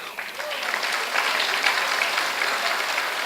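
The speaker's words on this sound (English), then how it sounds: "I want to give a big applause to my dedicated, committed board of members" Audience applause for a Lions Club board, a steady wash of many hands clapping at full strength through the whole stretch, close and continuous.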